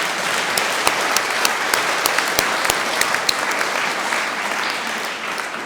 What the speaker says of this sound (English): I want to give Todd a big round of applause.